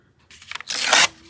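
A sheet of coffee-dyed paper is torn by hand, a short close rip lasting about a second that is preceded by a few soft crinkles, with no talking.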